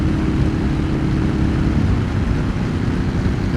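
At 60 mph in fifth gear, a motorcycle fitted with a dB killer gives a steady, loud low drone with wind rush, constant throughout with no talk.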